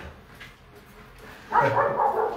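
Quiet background at first, then a dog close by lets out a run of loud barking, whining vocalizations that continue to the end.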